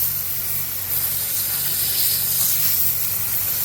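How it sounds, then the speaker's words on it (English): Pressure washer spray hitting the underside of a boat trailer to rinse off cleaner, a steady broadband hiss running without pause throughout, close and fairly loud. "we're gonna take and spray it off again"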